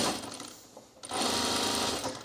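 A sewing machine stitches a pleat onto an ironing board cover: a quiet rapid whirring that pauses briefly near the one-second mark, then resumes steadier and louder, close by with no voices.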